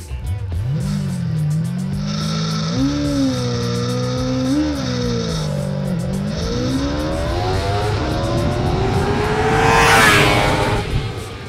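Roadster motorcycle accelerating hard in a timed acceleration test, its engine note rising steadily through the revs in one loud, close, continuous pull with rising harmonics and a brief shift-like dip before climbing again.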